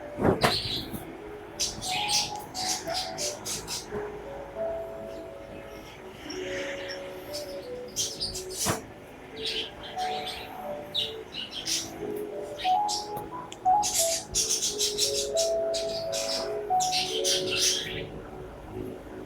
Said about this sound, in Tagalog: Hoy, wag mo na pinapakawala yung ibon mo sa labas, Sander, ha?